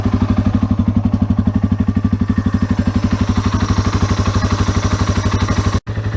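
A 2004 Yamaha XT225 motorcycle engine runs steadily after an oil change, a loud, even, rapid thumping idle close by with one brief dropout near the end and no talking.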